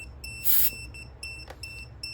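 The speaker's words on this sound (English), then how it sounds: "it's going to give you that beeping sound as well" A Honda City's tire pressure monitor warning gives short electronic beeps that repeat in a quick, regular pattern, with one louder burst near the start, in a quiet car interior.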